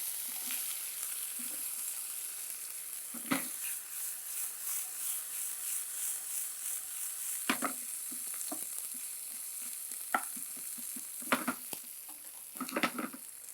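Chopped onion sautéing in a pan with ginger-garlic paste, a faint continuous sizzle broken by several scraping, clattering stirs of a spoon against the pan, no voices.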